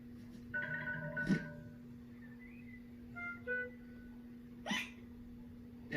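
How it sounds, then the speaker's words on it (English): Cartoon piglet hiccups in a children's animated episode, two sharp separate hics a few seconds apart over a soft musical background with a steady low hum, close and clear. "George still has hiccups."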